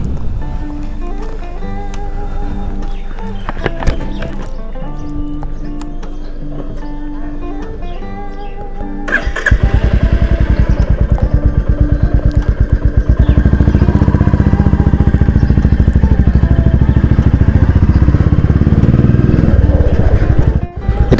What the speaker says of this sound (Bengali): আজকে একটা রয়্যাল এনফিল্ডের বাইক চালাবো 350 সিসি